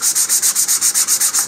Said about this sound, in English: we're going to want to sand this fairly well. And I would start here using 100 or 150 grit sandpaper